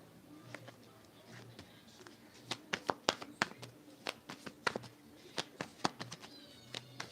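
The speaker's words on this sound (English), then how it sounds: "So y'all hear me shuffling." Tarot cards are shuffled close up, giving a quick irregular run of sharp papery riffles and snaps over a quiet background.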